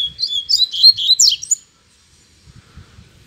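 A coleiro (papa-capim) songbird sings a quick run of bright, high chirps and trills, clear and fairly near, for about a second and a half. Quiet follows, with a few faint low thumps.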